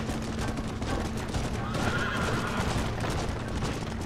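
A horse neighs in the Red Dead Redemption video game amid gunfire and hoof clatter, with a drawn-out whinny in the middle of the busy, loud game action.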